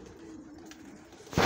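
A pigeon gives a low, soft coo close by, followed by a brief louder rustle or flap at the end.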